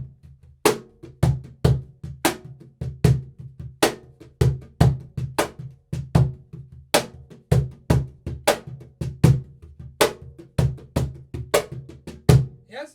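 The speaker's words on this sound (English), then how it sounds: "for example, I'm gonna play a funk rhythm" Funk groove played by hand on drums, with sharp accented slaps in a steady repeating pattern and softer ghost notes filling the gaps between them, close and alone.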